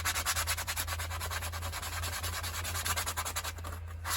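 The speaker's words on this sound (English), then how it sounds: "Sand it up really, really good." Sandpaper rubs over the bark of a piece of wood in an Alaskan workshop, making a close, steady run of rasping back-and-forth strokes with no voices.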